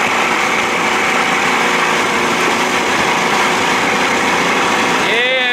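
A 1992 Johnson 60/70 hp outboard motor runs steadily at a loud, constant drone from start to end, with a faint rising whine near the close.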